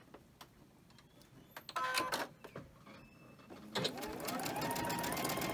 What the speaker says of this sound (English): I'm just going to push them up there and sew them.